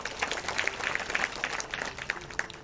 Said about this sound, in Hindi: उनके लिए भी तालियां बजाओ।